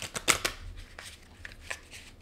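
Oracle cards being shuffled by hand, a quick burst of crisp riffling flutters up close, followed by a few softer, scattered card flicks.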